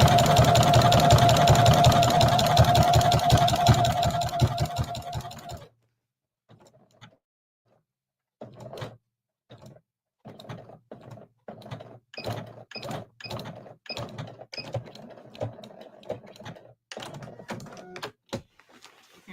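A sewing machine stitches appliqué fabric in a fast, continuous run for about five seconds, then stops, followed by scattered clicks, taps and fabric handling at moderate loudness.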